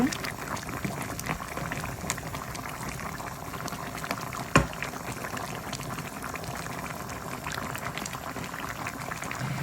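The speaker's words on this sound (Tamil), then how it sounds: "இப்போ பார்த்திங்கன்னா நண்டு நல்லா கொதித்து வந்துட்டுது." Thick crab gravy bubbles and simmers steadily in a pot, with continuous popping and gurgling and one sharper clink partway through.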